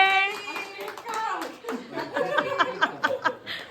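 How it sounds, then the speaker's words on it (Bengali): Hand clapping at a child's birthday party, a short burst of claps mixed with voices, someone speaking and light laughter close by. "চলো হাততালি হাততালি হাততালি হ্যাপি বার্থডে"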